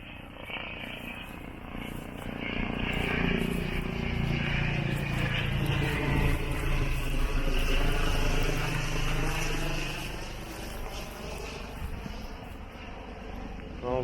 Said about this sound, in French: c'était l'hélico de la police